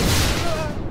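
An underbarrel grenade launcher fires in a video game with a short, heavy, booming thump and a brief ringing tail, heard close and loud.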